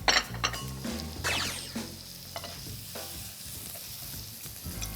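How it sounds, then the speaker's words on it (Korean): Button mushrooms sautéing in a pan for a sirloin cream risotto, a close sizzle with stirring scrapes and a few clinks of utensil on cookware, alongside low background music. "양송이를 먼저 볶아주세요."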